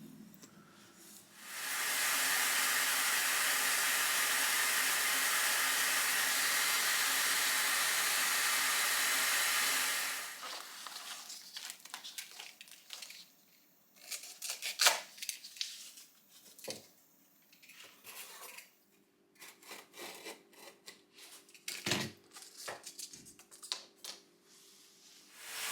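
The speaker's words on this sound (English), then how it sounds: "it just seems to be loads of video of me sanding away" A power tool sands a handmade wooden bushcraft knife handle, a steady loud hiss for about eight seconds that then stops, followed by quieter scattered scraping and handling noises close by.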